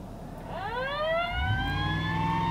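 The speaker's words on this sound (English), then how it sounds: "same thing, old siren sound." A video game police siren winds up, its wail climbing steadily in pitch over a low, rumbling engine hum.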